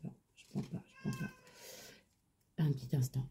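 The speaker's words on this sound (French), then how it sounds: "Excusez-moi, c'est mon chat." A house cat meows repeatedly in a long, drawn-out morning vocal run, close and fairly loud, interspersed with a person speaking French nearby.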